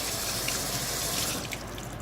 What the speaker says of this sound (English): I'm going to rinse it off really quick